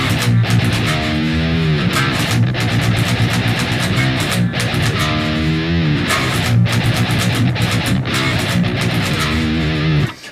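A guitar riff mixes chugging palm-muted open-string notes with higher melodic lines, loud and continuous with no talking.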